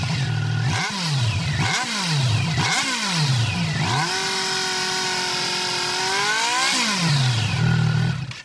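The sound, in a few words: Triumph inline triple motorcycle exhaust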